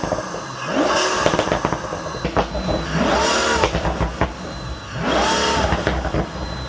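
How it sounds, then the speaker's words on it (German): Pagani Huayra supercar with turbochargers drawing air, a loud engine rising in three repeated surges of revving with whooshing intake and turbo noise, close and dominant, no talk. "Hier ziehen die Turbolader die Luft,"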